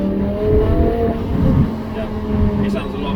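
A BMW M6 engine with its exhaust back box stripped revs steadily, a low droning growl rising and easing over a few seconds, close and fairly loud, with a voice talking over it.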